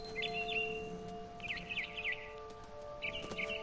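Three bursts of a bird's twittering chirps in the video game What Remains of Edith Finch, clear and fairly near, with pauses between them over a low steady drone.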